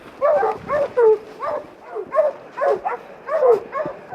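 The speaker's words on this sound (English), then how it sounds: "They're barking treed." Hunting dogs bark steadily at an animal up a tree, about eight loud, evenly spaced barks and bays with slightly whining tones, fairly close and with no talking.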